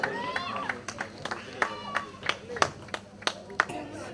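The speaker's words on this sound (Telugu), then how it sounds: "క్లాప్స్ కొట్టాలి అందరు కూడా" Scattered handclaps from an audience at a semi-Christmas celebration in Ongole, sounding as sparse, uneven sharp claps under a voice on a microphone.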